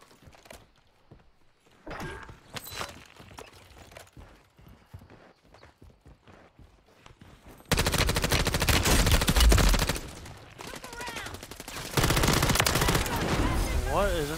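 Rapid bursts of gunfire ring out in Call of Duty Warzone's Plunder mode, sparse and quieter at first, then loud dense volleys later, with players talking over the game audio.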